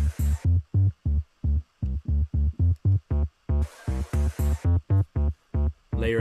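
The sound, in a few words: synthesizer fuzz bass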